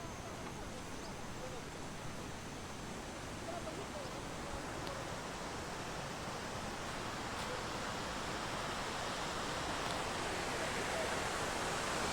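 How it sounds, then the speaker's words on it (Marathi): A constant broadband roar of rushing water fills the scene, steady and enveloping, from a nearby waterfall in the Konkan region of Maharashtra, with no other distinct sounds. "आपला मेन वॉटरफॉल आहे आवाज ऐकू शकता वॉटरफॉलचा"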